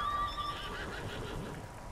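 A horse whinnies with a shrill, wavering neigh in the video game Ghost of Tsushima, loud and up close at the start, then fading into a busy game soundscape with no talk.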